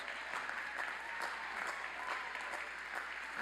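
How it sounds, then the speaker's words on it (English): Audience applause fills a university spring 2021 commencement ceremony as a steady, even patter of many hands clapping, heard from a distance with no break. "Let's give them a round of applause."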